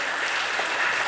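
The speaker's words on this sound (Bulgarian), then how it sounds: "По-силни, по-бурни аплодисменти." Audience applause welcoming a guest onto the stage at a 2016 benefit evening, a dense steady wash of many hands clapping close and loud throughout the short stretch.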